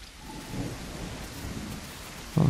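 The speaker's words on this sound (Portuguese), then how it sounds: "A chuva tá braba. Tá chovendo pra caraca." Heavy rain pours steadily in The Isle Evrima, a dense continuous hiss with a faint low rumble beneath, ending in a sudden louder burst.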